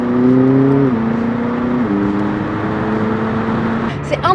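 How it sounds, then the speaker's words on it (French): The engine of a McLaren 600LT sports car drones at a steady pitch, dropping in distinct steps as it shifts through gears, loud and close, with a brief higher burst at the very end. "on appuie à peine sur l'accélérateur que tout de suite elle monte à des vitesses folles"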